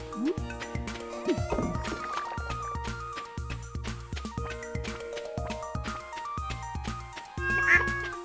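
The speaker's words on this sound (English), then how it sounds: "Meow." Meowing from a cat in Stardew Valley mixes with the game's music. Short, repeated mews come through the bouncy, rhythmic melody, and near the end a louder meow stands out.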